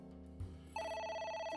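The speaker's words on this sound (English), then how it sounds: "Oh, there's a phone." A telephone rings in the video game AI: The Somnium Files, its electronic ringtone starting partway through and repeating steadily over a soft game music bed, loud and close with no talking.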